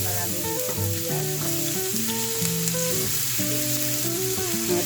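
Garlic and onions frying in a pan, a steady close sizzle under sustained background music, with faint stirring now and then.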